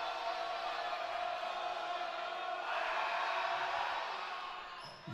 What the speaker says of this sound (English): Vocal crowd.